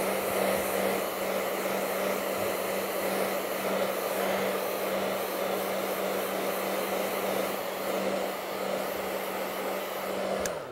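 A blower runs continuously, drying paint on a painting in a studio, a steady whooshing hum with a constant tone, close and even for about eleven seconds, with no talk over it.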